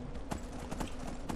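Horse hooves clip-clop at a steady walking pace in the video game Skyrim, a run of close, evenly spaced thuds over a constant low background drone, with no talking.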